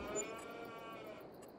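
Cattle in Farming Simulator 22 low softly over a quiet, continuous farm background, the mooing faint and drawn out rather than distinct.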